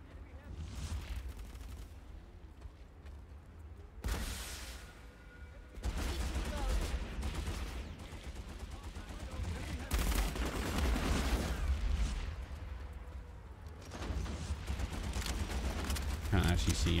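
Bursts of game gunfire from a PC mech shooter crackle in dense, repeated volleys through most of the stretch, fairly loud, with a voice talking over parts of it.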